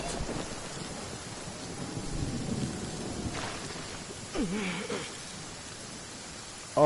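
Thunderstorm with steady rain in a video game while fishing, a constant hiss of rainfall with low rolling thunder swelling in the middle and a sharp crack at the very end.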